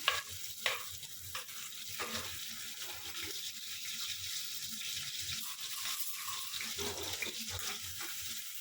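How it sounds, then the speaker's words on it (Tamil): Chopped onions and curry leaves fry in a pan for a simple kurma, making a soft, continuous sizzle with intermittent stirring scrapes, quiet and close. "இது நல்லா ப்ரௌன் ஆகிற வரைக்கும் கொஞ்சம் ஃப்ரை பண்ணிக்கோங்க."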